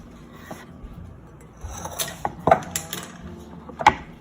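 Chopped ingredients for stuffed zucchini drop into a mixing bowl, giving several close clattering knocks and scrapes of utensils against the bowl, the loudest near the end, with no talking.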